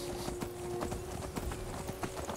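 Hoofbeats of a horse being ridden in Skyrim Special Edition thud in a quick, regular rhythm over a steady background hum, close and moderately loud.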